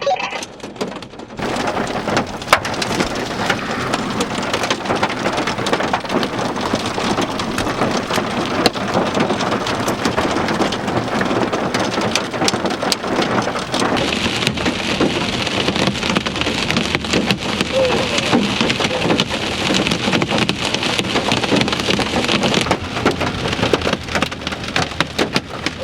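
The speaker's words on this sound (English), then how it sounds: "Got some hail now." Rain and hail from a severe thunderstorm in open country beat loudly and steadily on a surface for the whole span, with a dense rattling hiss and no voices.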